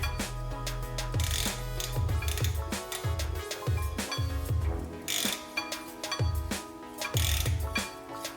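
A ratchet clicks while a Porsche 914's rear brake adjuster is slowly turned counterclockwise to tighten, giving repeated close, rhythmic pawl clicks in short bursts amid a mechanical background, with no talk.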